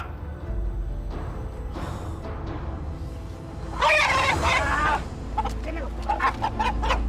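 Roosters at a cockfight squawk and cluck in agitated bursts, wings flapping, amid a noisy crowd and background chatter.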